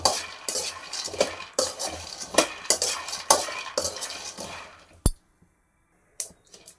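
Peanuts roasting in a pan are stirred with a utensil, giving close scraping and rattling strokes in an uneven rhythm with a faint sizzle underneath, then a short quiet gap and a few final scrapes.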